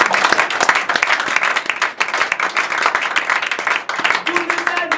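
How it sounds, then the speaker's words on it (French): A theater audience at a comic show gives dense, sustained applause that stays loud and steady throughout, with a few voices in the crowd. "qu'on applaudisse tous ceux qui m'ont aidé à faire ce spectacle"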